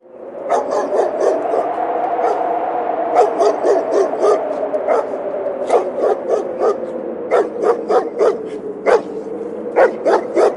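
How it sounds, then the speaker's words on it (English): A police canine barks over and over, loud and close, in clusters of sharp barks with short gaps between them, and no one speaks. "the dog stopped, barked once,"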